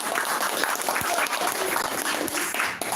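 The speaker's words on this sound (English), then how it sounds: "let's give a big round of applause for our speaking" Applause at a Toastmasters club meeting, a room of people clapping steadily and fairly close for a few seconds.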